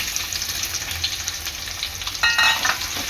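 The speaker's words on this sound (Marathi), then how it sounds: "कांदा आपला चांगला लाल होईपर्यंत शिजून घ्यायचा आहे" Onion and curry leaves fry in oil in a pan with a loud, steady sizzle, broken by brief scraping stirs and a burst of louder crackling near the end.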